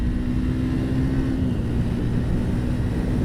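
A Triumph Speed 400 motorcycle engine pulls steadily in fifth gear at speed, a continuous loud drone with a steady tone and wind rush, no break for the full stretch.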